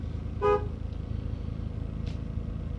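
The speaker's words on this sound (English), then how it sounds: "I got horn." A 1996 Ford F150 XL 4.9 pickup horn sounds once in a short, close, bright toot, then the truck idles quietly after it.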